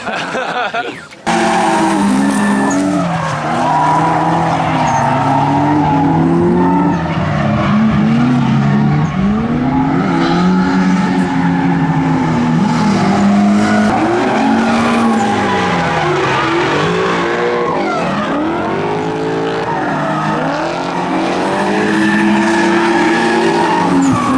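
A ZHP-swapped BMW E46 drifts hard around a long, fast road course, its engine droning loud and steady while rising and falling tire squeal sweeps through the whole run.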